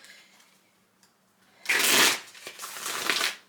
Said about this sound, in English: I'll shuffle just a few more times, and then we'll go ahead and pull some cards.